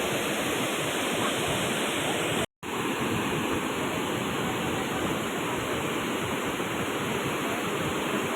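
A waterfall near Shillong in Meghalaya roars as loud, steady broadband rushing water, continuous and close, cut by one brief dropout, with no voices over it.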